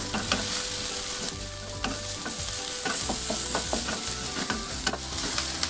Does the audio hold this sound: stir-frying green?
yes